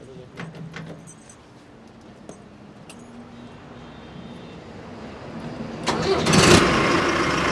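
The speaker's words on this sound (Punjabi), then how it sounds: "ਤੁਹਾਨੂੰ ਨਾਲੇ ਆਵਾਜ਼ ਸੁਣਾਉਣੇ ਟਰੈਕਟਰ ਦੀ" A few clicks and clatters, then the heavy engine of a new 4-speed Mahindra Ultra 605 tractor cranks and catches near the end, settling into a loud rumbling idle.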